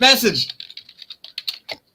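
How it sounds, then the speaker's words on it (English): Typing on a computer keyboard gives a run of quick, close key clicks in an uneven rhythm, heard right after a short burst of talk. "Typing on my computer."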